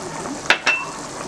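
A spoon or ladle scrapes and clinks twice against a pot while rice and chickpea pulao is stirred, two sharp close metallic contacts over a low background hiss.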